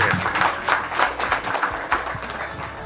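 A crowd at a school's first chili harvest ceremony in Pakpak Bharat claps for the SMK N1 PGGS vocational school, a continuous patter of hands at moderate, even loudness.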